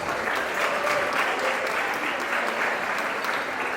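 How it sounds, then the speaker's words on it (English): Steady applause from a live audience welcoming the MC at a fundraising talk-show event, a dense even patter of clapping that holds at moderate volume throughout. "Let's give her a big round of applause as she serves as your MC for today, Constance Jones."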